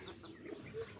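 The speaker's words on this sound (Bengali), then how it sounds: "আর এটা আমার মুরগি ডিম পাতেছে, প্রত্যেক দিন একটা দুটো করে ডিম পাতেছে" Backyard laying hens cluck in a brief, faint burst, with soft bird-like calls rising over a low background and no talk.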